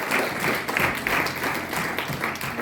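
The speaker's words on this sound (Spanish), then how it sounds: "Fate le mani al Signore." A church congregation claps together in a steady, sustained burst of applause, with a few voices mixed in.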